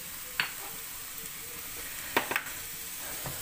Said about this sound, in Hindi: बस प्याज़ों को भी हमने सॉटे ही करना, मुकम्मल तौर पर नहीं पकाना।